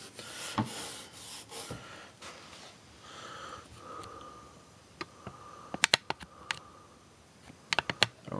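Metal cleaner is scrubbed by hand over the rusty metal of an old gun, soft close rubbing strokes with scattered sharp clicks and taps, quiet and irregular.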